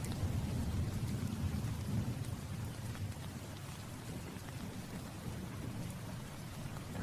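A thunderstorm rumbles with steady heavy rain pattering on surfaces, a continuous low roar of thunder and dense rainfall throughout, with no voices.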